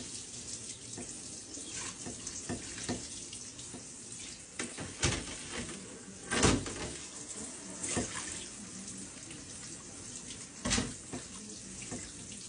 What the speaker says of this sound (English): I'm just going ahead and rinsing everything right now.